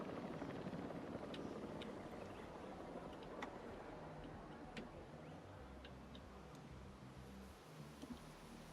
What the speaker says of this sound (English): As the RoboPoint helicopter moves out.